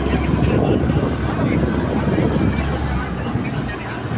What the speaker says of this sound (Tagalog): kaning naapoy helicopter ni Mr. Don, murag sama ni sa niya Mr. Don nga ang helicopter magdiba